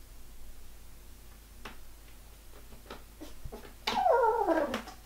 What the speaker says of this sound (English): Oh, and she's meowing at the same time.